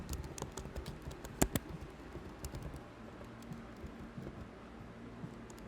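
Computer keyboard typing during a C programming session, faint and irregular keystrokes with a couple of sharper clacks, heard alone against low background noise.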